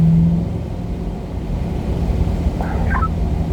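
Chevrolet C8 Corvette cars on a race track at a performance driving school, a continuous loud engine drone and rumble heard from inside a car, with a brief higher whine near the end.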